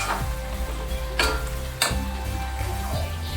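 Fried potatoes are stirred into chicken curry in a pan, with a steady sizzle and occasional scraping knocks of the utensil against the pan, close and clear.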